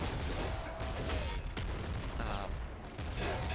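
Grenade and gunfire in the Nuclear Throne top-down shooter game: dense, continuous rapid shots and bursts over chiptune-style music, with brief sweeping tones.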